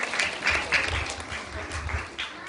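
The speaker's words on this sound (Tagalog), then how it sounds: "Lakasan naman natin yung palakpak natin sa Diyos." A church congregation at Hope Center Philippines claps in praise, a brief burst of fairly close, uneven applause that swells and fades in pulses.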